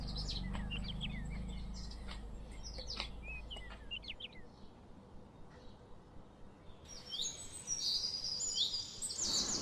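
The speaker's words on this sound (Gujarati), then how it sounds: "રસ્તામાં પક્ષીઓનો મધુરો કલરવ સાંભળીને મન આનંદિત થઈ જાય છે." Birds chirp along a forest path to a waterfall in Gir, India: scattered sharp tweets and short calls at moderate distance over a quiet background, with a brighter burst of song near the end.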